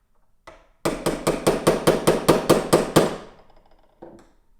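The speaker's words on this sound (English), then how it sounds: "So you want to keep going down toward the bottom and not hammer on it too hard" A new bushing being hammered into an MG TC generator: a quick run of about ten sharp metallic hammer blows at an even rhythm, close and loud, with a lone tap before and another after.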